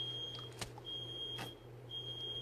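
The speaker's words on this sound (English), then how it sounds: "Do y'all hear that smoke alarm" A smoke alarm gives short, high, thin beeps at a steady interval, faint and indoors, along with a few sharp clicks and a constant low hum.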